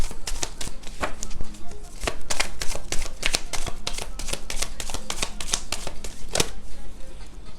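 Tarot cards are shuffled and drawn during a reading, giving a steady run of crisp, close papery riffles and flicks that repeat every half second or so throughout.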